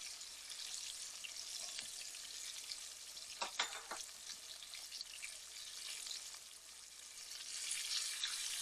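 Chicken nuggets fry in hot oil with a steady close-up sizzle and dense crackling, a few sharper pops near the middle and the sizzle swelling slightly toward the end.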